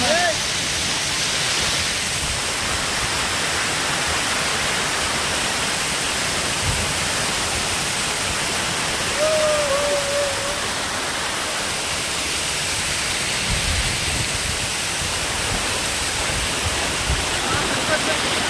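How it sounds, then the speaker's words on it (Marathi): The Surya River waterfall in Palghar roars as a continuous, heavy rush of falling water close by, filling the whole stretch, with a brief faint voice barely rising above it. "धबधब्याच्या खाली आलो आहोत आणि इथं खूप जोऱ्याने पाणी आहे"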